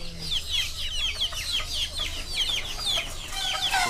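Chickens cluck and squawk repeatedly at the Muntilan bird market in Magelang, a busy chorus of close, overlapping calls with faint market bustle beneath.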